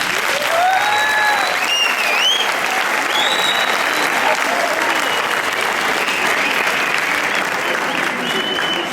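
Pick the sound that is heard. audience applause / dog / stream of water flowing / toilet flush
audience applause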